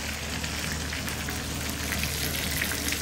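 Flat beans and potatoes fry in a pan in a Madaripur village kitchen, giving a steady, close, crackling sizzle that holds at an even level throughout with no voices.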